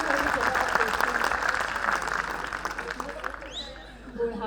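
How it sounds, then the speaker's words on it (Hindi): An audience at an Indore poetry recital (kavi sammelan) claps in a dense burst of applause for a few seconds, then it fades out as a voice speaks. "ताली बजा के मुझे समर्थन करो"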